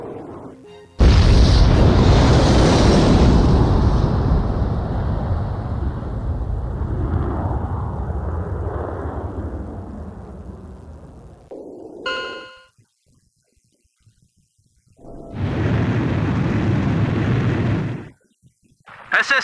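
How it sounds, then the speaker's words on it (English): A cruise missile strikes the mass driver in Ace Combat 5, a loud sustained boom rolling on for about ten seconds, followed by a brief metallic chime and then a second heavy rumbling burst. "Mass driver hit by cruise missile!"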